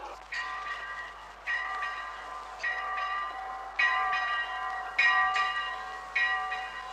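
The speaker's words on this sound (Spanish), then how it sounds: "Son las campanas de las clarisas." Convent church bells of the Poor Clares ring in a steady peal, each new stroke swelling at roughly regular intervals over a lingering ringing hum, moderately loud and with no voices.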